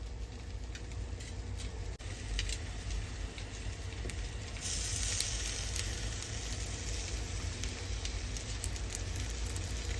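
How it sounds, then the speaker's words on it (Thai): Salted fish in a pan gives off a steady, crackling sizzle, close up and constant for the whole stretch, with a brief louder hiss partway through and nobody talking. "ปลาดาวใส่อันกระทะไว้ก่อนแล้ว"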